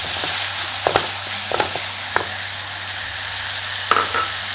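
Onions and tomatoes fry in a pan for a spicy chana chaat, giving a steady close sizzle broken by a few sharp clicks and scrapes of stirring, with no voices.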